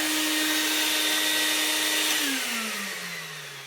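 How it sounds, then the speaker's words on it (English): A restored 1990 Vax 121 3-in-1 wet and dry vacuum cleaner runs with a loud, steady motor whine close by, then winds down with a falling pitch as it switches off. "They're not quiet things, they're wet and dry vacuums."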